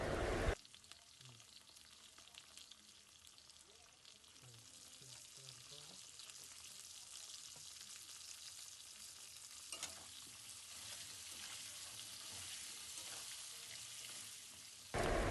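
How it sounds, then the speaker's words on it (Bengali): Pointed gourd pieces fry in oil with turmeric and salt, a steady, fairly faint sizzle that runs throughout, with occasional stirring scrapes. "এবার আমরা পটলগুলোকে লাল লাল করে ভেজে নেব।"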